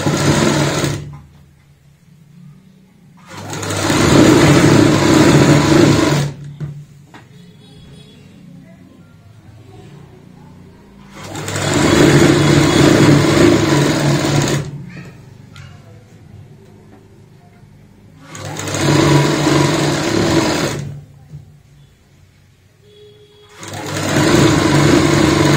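A sewing machine runs in three loud, steady bursts of rapid stitching as a baby frock is sewn, with quiet gaps between runs where the fabric is repositioned.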